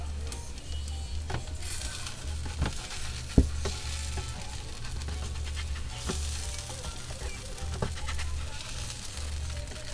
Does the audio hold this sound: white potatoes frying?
yes